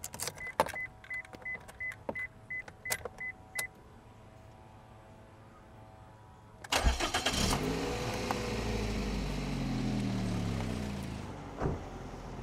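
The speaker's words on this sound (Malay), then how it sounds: "Kereta hidup dah." A car's key chimes ping repeatedly, then the engine cranks and catches with a sudden burst, settling into a steady idle that rises in a brief rev near the end.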